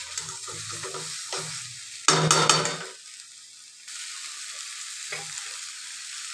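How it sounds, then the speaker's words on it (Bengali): Sunrise shahi garam masala being sautéed in a pan for an egg, potato and soybean curry: a continuous sizzle, one loud burst of vigorous stirring, then a quieter fry. "সানরাইজের শাহি গরম মশলাটা দিয়ে একটু কষাবো,"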